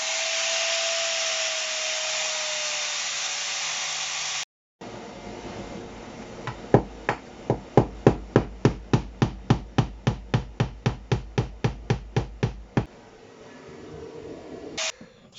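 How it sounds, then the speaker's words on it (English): An angle grinder whines steadily against boat rivet heads on a wooden ferry. After a brief gap comes a run of about twenty sharp, evenly spaced hammer blows on a punch driving the rivets through, then quiet. "I've now ground the heads off the rows like this with a grinder, and then punched them through with a punch"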